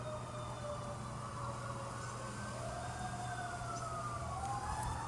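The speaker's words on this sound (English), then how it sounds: "A great way to bring you to the present moment is hearing a siren on the back." A distant emergency siren wails in the background, its pitch rising and falling steadily as it passes, faint over a low constant hum of traffic and room noise.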